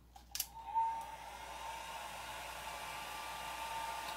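A hair dryer switches on with a couple of clicks and then blows steadily to dry alcohol ink on a tile, a smooth, faint airy whir with a thin whine that holds constant to the end.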